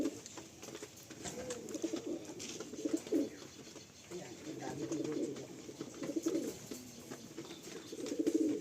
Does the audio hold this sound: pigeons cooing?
yes